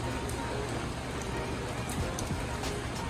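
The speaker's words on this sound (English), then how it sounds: "Forgive the rain, sounds pretty bad." Steady rain pours down in Vancouver, a dense, continuous hiss of drops close around, with no pauses.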